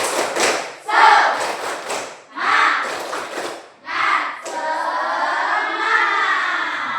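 A school class performs the Indonesian 'tepuk semangat' clapping chant: loud group voices shouting in short rhythmic bursts with claps and thumps, ending in a sustained collective cheer.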